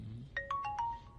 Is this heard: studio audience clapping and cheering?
no